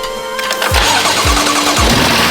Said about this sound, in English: let's see if the car will start up with a proper jump